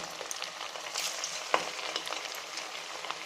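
Chicken pakora pieces fry in plenty of oil over a low flame, a steady crackling sizzle with brief bursts and one sharp spatter midway.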